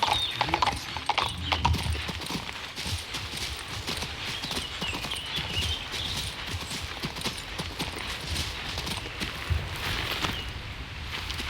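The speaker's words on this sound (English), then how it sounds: "One day I'll remember to use the horse." Rapid, continuous clip-clop of horse hooves at a gallop in the game King's Bounty 2, steady and fairly loud throughout, with a brief whinny near the start.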